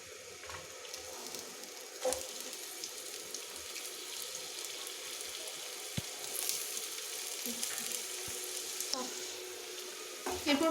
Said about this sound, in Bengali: এরপর পেঁয়াজগুলোকে আমি ফ্রাই করে নেব, একটু লাল করেই ফ্রাইটা করব হবে